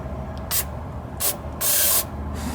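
Three bursts of brake cleaner aerosol spray hiss out, two short and one longer, close and loud against a low background hum, during a rear differential fluid change on a 1997-2003 Ford F-150.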